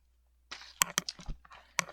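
Tarot cards riffle and snap in quick, close bursts after a moment of near silence, a few sharp slaps mixed with softer sliding flutters.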